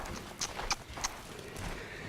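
Horse hooves clip-clopping at a walk on a lunge line, a few distinct muffled hoofbeats spaced in an even rhythm over low background rumble.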